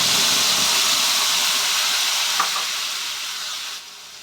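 Tomato paste hits a hot pan of spices for a mustard pabda fish curry, giving a loud, steady sizzling hiss that fades slightly toward the end.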